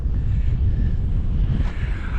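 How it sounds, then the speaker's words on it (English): Wind buffets the microphone at the edge of the Tizi n'Test mountain pass with a heavy, low rumbling roar that stays constant throughout, with no other sounds standing out. "it's getting a bit windy as I'm reaching the edge"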